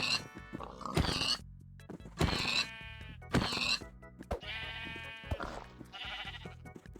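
Sheep bleating in the video game Minecraft: several loud, close baas come in an uneven series with short gaps, heard alone with no talking.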